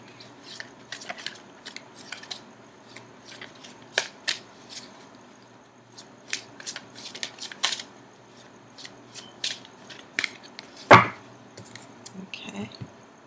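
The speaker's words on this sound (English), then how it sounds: "I'm going to continue shuffling for just a few more seconds," Tarot cards are shuffled by hand close up, giving repeated crisp riffling and soft flicking bursts in irregular clusters, with quiet pauses between and one sharper snap near the end.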